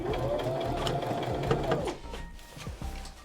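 Sewing machine running a line of stitches on a suit jacket being tailored, a steady fast mechanical chatter with a rising whir, then slowing into a few short, hesitant runs, close and clear.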